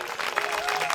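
A seated congregation at a Hindi religious discourse gives a brief burst of dense, continuous clapping that fills the whole moment at an even, moderate level.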